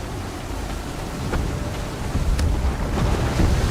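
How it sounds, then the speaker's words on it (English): Strong wind gusting over the sea in the Assassin's Creed III video game, a loud continuous roar of wind and surging water that swells in gusts, with no speech. "That wind will push us hard up those rocks."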